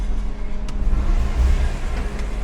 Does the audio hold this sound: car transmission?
yes